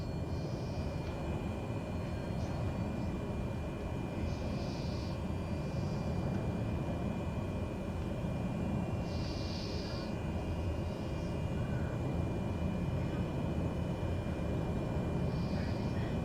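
Diamond DA40NG light aircraft cruising in a flight simulator game, its engine giving a steady, even drone for the whole stretch, with a few faint intermittent tones over it.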